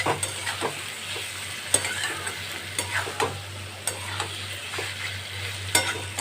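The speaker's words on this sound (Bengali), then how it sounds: "এটাকে আমি এইভাবে কিছুক্ষণ নাড়তে থাকবো" Soya bean masala with yogurt is stirred in a frying pan, giving a soft continuous sizzle broken by repeated scraping strokes of a spoon at an unhurried rhythm, close and alone.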